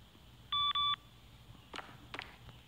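Two short electronic beeps sound close together in the horror video game CASE: Animatronics, followed by faint footstep-like shuffles and taps in a quiet room.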